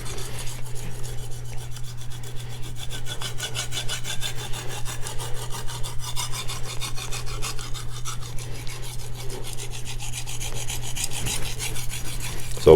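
A knife is honed on an Arkansas natural sharpening stone, producing a steady, rhythmic rasp of back-and-forth strokes that continues evenly throughout, close up, with a low constant hum beneath and no talking.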